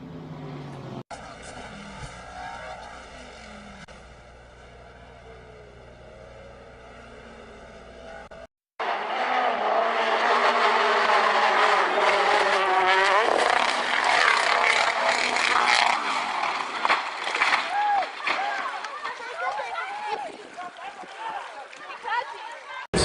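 Race cars roar past on a circuit during an auto race, a steady engine drone in the first part giving way to loud, close, fluctuating engine noise from several cars, with commentary talking over much of it.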